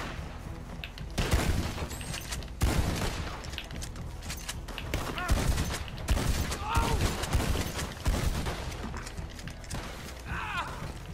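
Sniper and rifle gunfire in Red Dead Redemption Online multiplayer during a shootout and bounty hunting: several sharp reports spaced a second or two apart, mixed with mechanical clicks and a horse, over game ambience.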